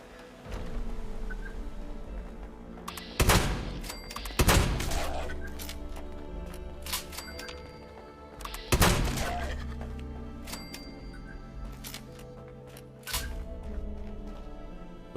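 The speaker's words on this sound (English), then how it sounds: "Oh yeah, this is my shotgun." A shotgun booms in a PS4 game, several heavy blasts spread irregularly across the stretch, with smaller clicks and thuds in between.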